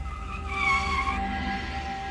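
A car arrives and skids to a halt, its tires squealing for about a second over the low engine rumble before the noise settles into a steady idle.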